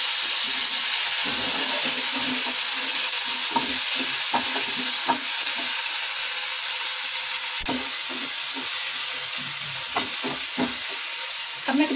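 Tomatoes hit a hot pan of frying dried curry leaves and ginger, followed by loud continuous sizzling and steam hiss with repeated scraping stirs, close up and without talk.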